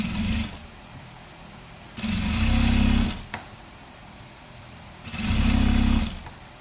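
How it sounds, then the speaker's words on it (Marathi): An electric sewing machine stitches a blouse in two short loud bursts of rapid whirring, separated by a quieter pause with a faint click, close by and without talking. "इथे मी आता टीप मारून घेणार आहे."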